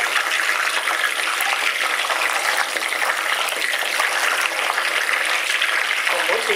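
Steady, loud sizzling of food frying in hot oil, a dense continuous crackle with no pauses.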